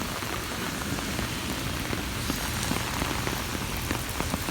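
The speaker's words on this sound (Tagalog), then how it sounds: "madaling araw at nag-uulan ng ice." Steady dense patter of hail falling in the UAE, continuous and fairly loud, with scattered sharper ticks throughout and no voices.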